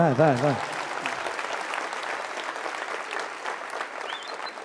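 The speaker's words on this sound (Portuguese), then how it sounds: "Tá, vai, pode aplaudir." A congregation claps in a Portuguese-language church service, a broad steady round of applause following a short sung or voiced tone at the start, continuing evenly and fairly close throughout.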